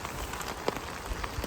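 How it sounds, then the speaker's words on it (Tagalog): Rain falling steadily outdoors where wild mushrooms grow, a faint, even patter with a few sharper drops and light rustling, no voices. "Kagandahan po ngayon umuulan"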